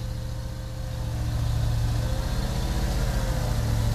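A 4x4 bucket truck turns in low gear with its drivetrain binding, its heavy engine holding a steady deep drone that swells slightly as it works, close and continuous.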